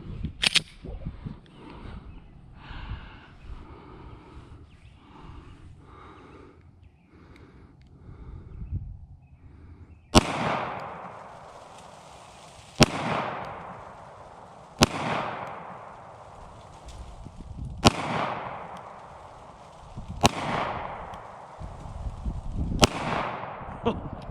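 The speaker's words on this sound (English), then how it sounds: "I'm going to go ahead now and get some shots down range, see how it does." A Taurus G3C pistol fires six loud, sharp shots at a range, each about two to three seconds apart and each followed by a ringing echo. A jumble of handling noise and movement comes before the first shot.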